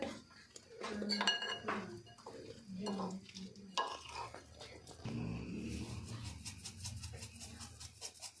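Mayonnaise, oregano and other burger ingredients are stirred in a bowl with clinking utensil scrapes and knocks, followed by a steadier mixing rustle, with some light background noise.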